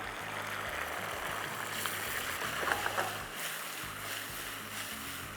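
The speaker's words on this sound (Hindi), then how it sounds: "बस इस तरह आपने फ्राई करना है, चम्मच चलाने की ज़रूरत नहीं है।" Chicken 65 pieces for a Hyderabadi recipe fry in masala and oil with a steady, close, broadband sizzle, crackling faintly throughout without pause.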